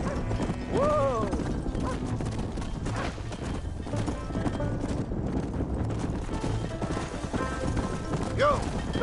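Hooves clop steadily as a horse is led into a pen in the video game Red Dead Redemption, with a couple of whinnies breaking through the rhythmic footfalls over ambient game noise.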